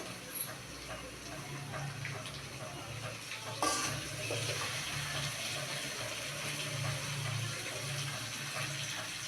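A Katla fish head fries in a pan, giving a continuous soft sizzle with a low hum and one sharper clatter partway through.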